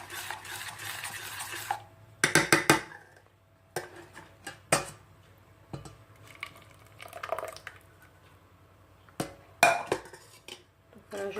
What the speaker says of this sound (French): Voilà, je continue à mélanger correctement.